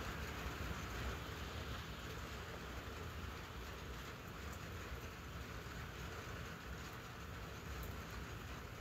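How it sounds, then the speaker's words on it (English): Steady rain heard from beneath an awning outdoors: a dense, continuous hiss of falling water, fairly quiet and unchanging throughout, with no voices. "Yeah, it's raining."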